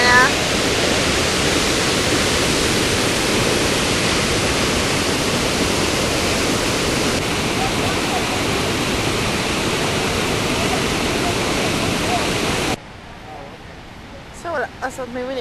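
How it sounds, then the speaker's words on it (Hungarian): The Horseshoe Falls at Niagara roar as a steady, loud, broadband rush of falling water that fills the scene without a break, dropping away near the end as brief faint sounds follow. "itt vagyunk a Niagaránál"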